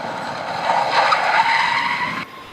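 A car braking hard to a stop, tires skidding and squealing loudly for about two seconds before cutting off abruptly, with no talk over it.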